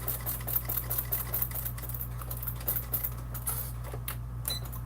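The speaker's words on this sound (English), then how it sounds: "if you're making yours out of vinyl like I am, it might get a little difficult to sew" A sewing machine stitches through a vinyl bag, its motor humming steadily under a fast, even patter of needle strokes, close but fairly quiet.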